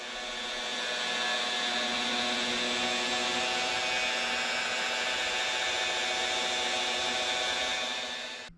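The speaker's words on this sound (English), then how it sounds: "So the first thing I'm going to do is rub the entire cab using the first step of the" A rotary polisher fitted with a red pad spreads compound across the painted cab of a custom 1940 Chevy project truck, giving a steady, close, continuous whirring drone that holds evenly throughout.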